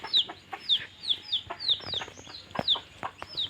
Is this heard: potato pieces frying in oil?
no